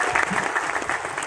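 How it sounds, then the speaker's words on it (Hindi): Brief burst of loud clapping from an audience at a Hindi poetry recital (kavi sammelan) in Chauri Chaura, dense applause filling the short moment. "सबके लिए एक बार जोरदार तालियां बजाइए मेरे पहले।"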